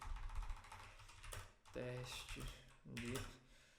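Keys clatter on a computer keyboard during a typing test, in quick irregular bursts with short pauses, while a person talks over the tapping.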